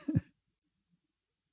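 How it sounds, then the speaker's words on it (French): A single short throat clearing, close and fairly loud, followed by near silence. "Et je vais aller me racler la gorge."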